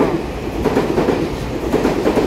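A twelve-car Taiwan EMU3000 Tze-Chiang express electric train in red livery passes close by, its wheels rolling loudly with a rhythmic clickety-clack over the rails.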